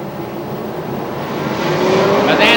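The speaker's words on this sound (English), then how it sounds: "Bezanson nails the throttle and green flag comes out" Short-track race cars at Star Speedway, New Hampshire, surging forward on a green-flag restart, the engine roar climbing in pitch and swelling louder as the field accelerates.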